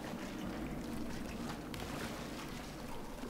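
Running water in the video game Portal 2, a steady rushing, splashing flow heard continuously and fairly loud with no talk over it.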